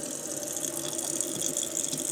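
Tap water runs steadily into a sink, a constant splashing gush at moderate volume, close by, with no talk over it.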